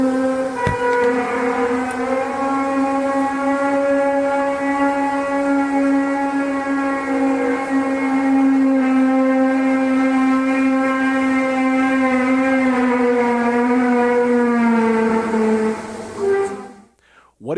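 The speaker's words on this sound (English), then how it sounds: "captured a sound that sounds a little bit like a brass section, the brass section of an orchestra warming up." Mysterious brass-like drone in the sky, a loud, sustained, rich tone like an orchestra's brass section warming up, holding steady with slight wavering for about sixteen seconds before breaking off abruptly.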